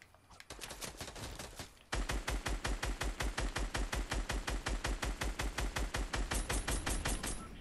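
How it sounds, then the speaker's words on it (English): Rapid automatic gunfire in a Fortnite match, with a short burst followed by a long, loud, evenly spaced stream of shots close at hand. "Is someone shooting me on this one?"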